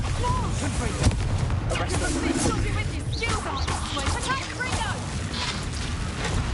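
A Bombarda spell explodes in Hogwarts Legacy amid dense, loud magical combat, a sharp burst near the start rising over constant rumbling effects and overlapping voices.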